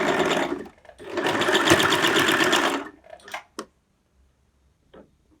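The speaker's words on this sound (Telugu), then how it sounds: "సో స్టిచ్చింగ్ స్టార్ట్ చేసుకుందాం." A sewing machine stitches an apron made from an old kurti: a close, continuous whir runs for about two seconds, then stops, followed by a few short clicks and handling sounds.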